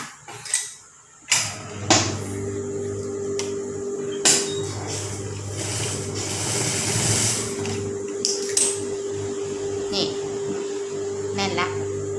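A sewing machine runs a top-stitch along the waistband seam of a student skirt being taken in, with a steady mechanical whirring hum broken by several short stops, knocks and handling clicks.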